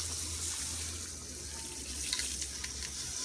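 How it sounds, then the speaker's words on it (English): Dry Carolina rice poured into a pot in a home kitchen, a continuous bright hissing patter of grains that holds steadily near the microphone with a few sharper ticks toward the end. "So here I'm gonna start pouring my rice into the pot."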